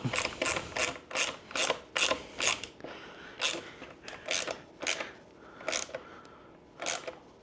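A ratchet wrench tightens the seat and tail light bolts on a Seemoon SM4 electric dirt bike, with close, sharp clicking bursts in short repeated strokes and brief pauses between them.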